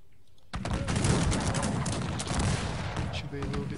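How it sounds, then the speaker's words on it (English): Dense, loud bursts of rapid gunfire from the video game Cossacks 3 erupt after a brief quiet start and continue steadily throughout. "Some guns can get a bit noisy."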